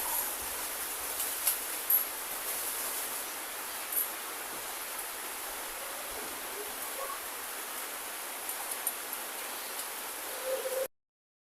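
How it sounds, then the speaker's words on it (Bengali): Rain falling outside makes a steady, even hiss with a few faint ticks of drops, running unbroken for about ten seconds before cutting off suddenly. "দেখো বৃষ্টিটা এখন একটু আবার কমলো দেখতে পাচ্ছ বৃষ্টি"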